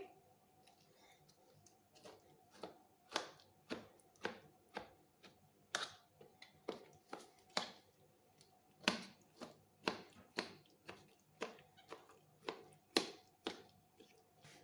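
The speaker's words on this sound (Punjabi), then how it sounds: "ਹੁਣ ਅਸੀਂ ਕਿਸੇ ਚਾਕੂ ਦੀ ਹੈਲਪ ਨਾਲ ਜਾਂ ਕਿਸੇ ਮੈਸ਼ਰ ਨਾਲ ਇਹਨੂੰ ਚੰਗੀ ਤਰ੍ਹਾਂ ਮੈਸ਼ ਕਰ ਲਾਂਗੇ" Eggplant being mashed with a knife: a long series of soft, squishy taps and presses, roughly regular, close by and fairly quiet.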